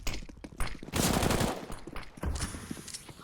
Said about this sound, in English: Consti advancing up mid, kills Brett early with that FAMAS